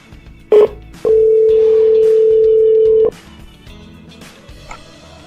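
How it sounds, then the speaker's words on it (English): Telephone dialing and ringing generated by ReaFX software: a short DTMF-like beep burst, then one loud steady ring tone lasting about two seconds, followed by quieter faint background tones. "ReaFX starts making the phone call automatically."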